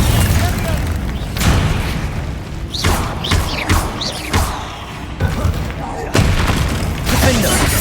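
Repeated blasts of the Confringo fire spell in the Hogwarts Legacy video game, loud booms and crashes bursting every second or so amid dense battle noise, close and continuous.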